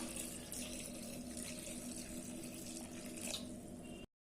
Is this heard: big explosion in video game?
no